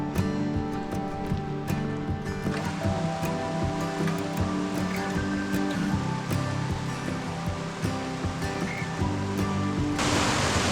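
A river spills over a few small cascades and falls, producing a loud, steady rushing roar of water close by that continues without a break, with no talking.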